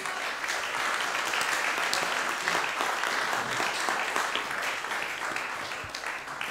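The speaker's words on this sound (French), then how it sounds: "largement applaudir." Sustained audience applause at an evening conference on artificial intelligence, a dense, steady wash of many hands clapping throughout, easing slightly toward the end.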